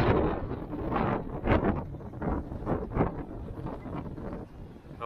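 Strong wind gusting outdoors on a partly sunny, showery day in Australia, buffeting the microphone in loud rumbling surges that swell and fade, with no talking.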